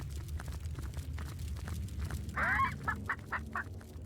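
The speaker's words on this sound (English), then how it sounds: "I hear the sounds of those chickens, though." Chickens in the video game Divinity: Original Sin cluck and squawk in a short burst over a steady low ambient hum, with a few quick calls that fade off.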